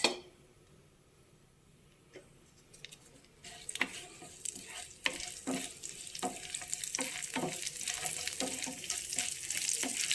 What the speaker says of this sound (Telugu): కాగిందండి నూనె. ఆవాలు, జీలకర్ర, మినపప్పు, ఎండుమిర్చి వేసుకుందాం.